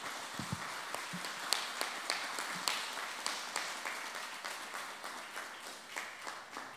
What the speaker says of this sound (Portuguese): Vamos dar uma linda salva de palmas ao nosso Deus?